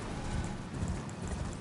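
Horse hooves gallop in a steady, continuous rhythm during a fantasy battle in Elden Ring: Shadow of the Erdtree, mid-loud and up close, with no talk over them.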